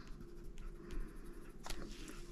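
A lime peel coloured pencil shades on paper with soft, close scratchy strokes in short irregular bursts, quiet with no voice over it.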